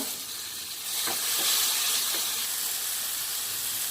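Fennel seeds crackle and sizzle in hot oil with curry leaves, a steady broadband frying hiss that grows louder after a second, with a few soft pops.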